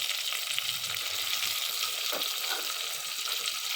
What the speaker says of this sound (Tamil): ஸோ இப்போ நல்லா இதெல்லாம் பொரிஞ்சு வந்ததுக்கப்புறம் கீரையை நம்ம அதில் சேர்த்துக்கலாம்